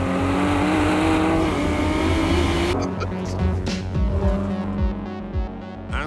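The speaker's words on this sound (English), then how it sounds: "Then there's the twin-turbocharged V6 engine." A Ford GT supercar with a twin-turbocharged V6 engine revs and accelerates hard, a loud, continuous throbbing drone that rises in pitch, then shifts into a rougher, changing note as the car drives on.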